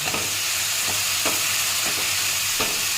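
Masala is stir-fried in oil with a loud, close sizzle punctuated by several quick, evenly spaced spatula strokes over three seconds, with no voices.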